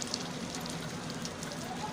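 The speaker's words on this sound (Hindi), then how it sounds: "अब इसे हम फ्राई करेंगे।" An egg-coated noodle kebab fries on a tawa over medium-low flame, a soft, continuous sizzling crackle with scattered light pops.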